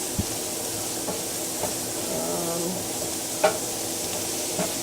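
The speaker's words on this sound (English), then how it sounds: "At this point, I'm gonna add the cauliflower to the onions." Cauliflower being added to onions frying in a pan, with a steady low sizzle and a few soft scraping stir strokes and light clinks.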